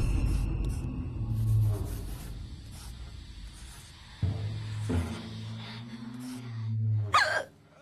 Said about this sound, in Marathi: काय रे माका उचकी लागली